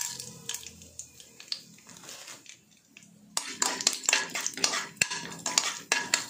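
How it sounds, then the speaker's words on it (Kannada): Mustard seeds and chana dal fry in oil in a pan: quiet scraping and clinks of a spoon at first, then a sudden burst of dense, close crackling and popping mixed with utensil knocks. "ಕಡಲೆಬೇಳೆ ಕೂಡ ಸ್ವಲ್ಪ ಫ್ರೈ ಆಗಬೇಕು."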